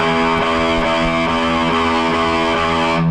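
Open low E sixth string on a distorted electric guitar played without palm muting, ringing out full and sustained under repeated even picks, close and alone, then cut off at the end.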